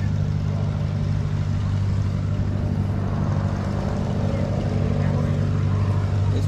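A 1970s–80s Allis-Chalmers AC 7050 tractor engine runs at an outdoor tractor show, a loud, steady low droning rumble that holds constant throughout.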